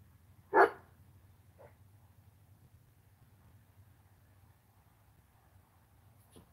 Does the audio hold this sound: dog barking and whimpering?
yes